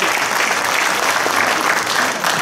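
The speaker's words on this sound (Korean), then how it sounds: "그 감사의 표시로 모두에게 박수를 보내주시면 고맙겠습니다" An audience applauds steadily at an inauguration ceremony for the presidents of a Korean hometown association in Bucheon, a dense, even clapping that stays fairly loud and continuous throughout.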